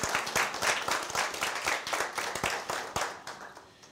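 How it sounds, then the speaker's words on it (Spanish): Graduates and guests at a master's degree ceremony applaud a recipient, a small group of distinct, uneven hand claps that ring out clearly and taper off toward the end. "Un aplauso para él."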